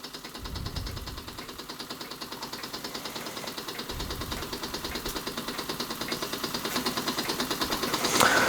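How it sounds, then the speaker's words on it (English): A Weeden Model 672 model steam engine runs on its first run, a quiet, fast, steady chuffing pulse that keeps an even rhythm throughout, with faint low thumps underneath. "a very nice example of a Weeden Model 672, newly arrived from the States, on its first run"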